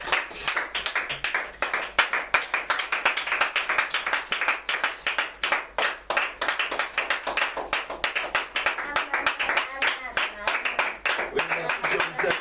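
A church congregation claps steadily in a fast, even rhythm throughout, loud and close, with voices faintly under the clapping.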